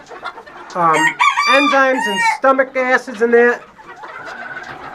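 Backyard chickens cluck and squawk loudly in a rapid burst of overlapping calls while eating whole kernel corn in winter, with a voice talking over and after them.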